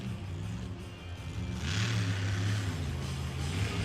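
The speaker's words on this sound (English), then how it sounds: "Let's listen to this beautiful truck. That truck just sounds so stunning. Listen to it from far away." A monster truck engine drones steadily in the distance at a muddy night show in Miami, Oklahoma, its low rumble swelling slightly as it revs, with a faint hiss of open air around it.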